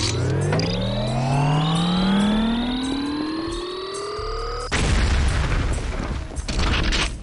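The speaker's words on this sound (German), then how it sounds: "Sprengen wir ein paar Asteroiden weg." Explosive charges blow up asteroids in Heavy Metal: F.A.K.K. 2. A long rising sci-fi whine swells, then a loud, close blast cuts in and leaves a rumbling, crackling roar that fades unevenly.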